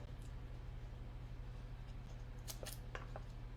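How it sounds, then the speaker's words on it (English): Scissors snip a small piece of paper for a handmade Christmas card, a few quick close cuts near the end over a steady low hum. "So what we're going to do is just cut a little teeny piece."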